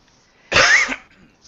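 A single sharp, close cough, one short burst and then quiet, from a person who just choked on a piece of graham cracker.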